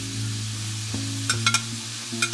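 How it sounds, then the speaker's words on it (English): Fresh onion frying in a pan, a steady close sizzle with a low hum beneath and a few sharp scraping stirs near the end. "Once I get it started frying, I'm going to go ahead and add some of the vegetables and start out with the onion."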